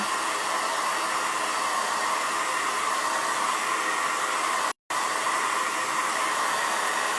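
A dryer blows steadily to dry layered paint on a handmade buffalo plaid holiday camper craft sign, a loud continuous whooshing roar with one brief cutout near the end.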